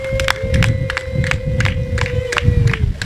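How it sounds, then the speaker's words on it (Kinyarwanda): Wedding guests clap and cheer for the bride and groom, with rhythmic crowd claps and shouts running steadily throughout, a sustained tone held over the noise. "mwongere mu mpera amashyi abageni bacu"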